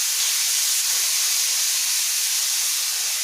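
Grated carrot frying in a pan for carrot barfi halwa, giving a steady, loud sizzling hiss throughout with no pauses and no voices.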